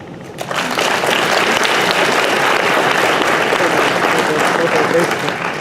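A live audience at a talk claps in a dense, sustained round of applause that swells up quickly and holds steady, with some voices mixed in.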